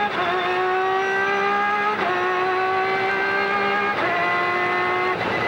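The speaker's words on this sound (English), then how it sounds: "We're just going to crank the net sound here and let you enjoy a few laps here at Fontana." An SRP2 prototype race car laps Fontana during a Grand-Am event, heard onboard with a loud, constant engine whine that climbs in pitch and drops briefly at each upshift, about every two seconds.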